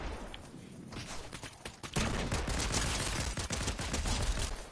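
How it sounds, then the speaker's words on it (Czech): Video game gunfire, rapid bursts of shots and fusillades crackling through a dense, fairly faint mix, growing busier and louder after the first two seconds. "No, tady po mně střílí."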